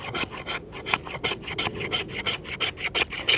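A Jeo Tec No 37 Spanish survival knife scrapes fatwood in quick repeated strokes, each one a sharp, close rasping scratch. The strokes come in a fairly steady rhythm of roughly three or four per second.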